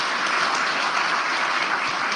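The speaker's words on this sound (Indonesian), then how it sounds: "Kita beri tepuk tangan yang paling meriah." Continuous, lively applause from a large audience at a party's national working meeting opening ceremony, a dense, even roar of clapping sustained throughout at a strong level.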